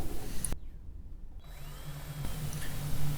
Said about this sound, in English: Here I'm starting to drill a pilot hole to eventually auger out this hole a little bigger